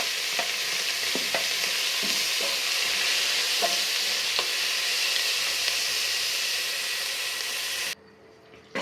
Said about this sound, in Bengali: এখন আমার পেঁয়াজটা ভাজা হয়ে গেছে,